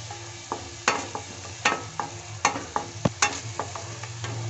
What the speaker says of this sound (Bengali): মশলাটা ভালোভাবে ফ্রাই করে নেব।